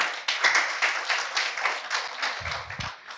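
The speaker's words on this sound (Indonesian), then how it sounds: "Mari sama-sama kita berikan tepuk tangan untuk kita semua." A seminar audience applauds together in a lecture hall, a steady patter of many hands clapping at moderate volume, with a brief low thump near the end.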